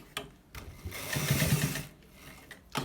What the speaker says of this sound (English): this is actually how to stitch it